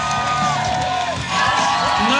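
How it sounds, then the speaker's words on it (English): A crowd at a BMX event cheers and whoops loudly for a rider, with an announcer's voice and shouts mixed into the continuous roar. "Round of applause for him, please."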